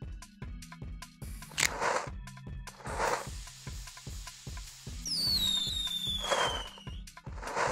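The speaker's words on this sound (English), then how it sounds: "The firework can deal a large amount of damage to a cluster of moles and cover." Firework weapon explosions in the video game King of the Drills pop in a quick rhythmic series of sharp cracks, with a whistling streak rising through one burst, loud and up front with no talk.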